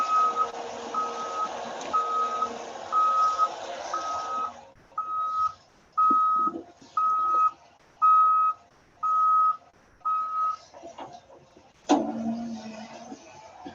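An autonomous construction robot vehicle drives around, its reversing alarm sounding about six evenly spaced, loud beeps over a rumbling engine, followed by a brief louder engine burst.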